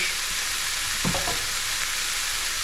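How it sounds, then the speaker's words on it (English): Meat and vegetables sizzle in a frying pan for a protein breakfast, with a steady bright hiss and a brief stirring scrape partway through. "Now at this stage, the meat is kind of cooking."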